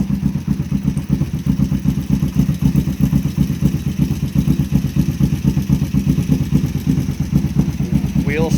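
A Kawasaki Vulcan 500 motorcycle engine runs close by in a steady, loud, rapidly pulsing idle as the clutch is let out and the rear wheel turns, ending with a brief rising squeal.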